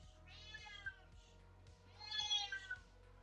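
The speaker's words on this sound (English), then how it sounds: "The cat that you hear in the background is deaf." A deaf cat meows twice in the background over a low electrical hum, the second cry longer and louder than the first, both fairly distant.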